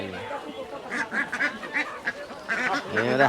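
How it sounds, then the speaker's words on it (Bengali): Ducks for sale at Dimapur Super Market in Nagaland quack in repeated short, nasal bursts close by, several calls overlapping in quick succession under faint market murmur. "হাঁস"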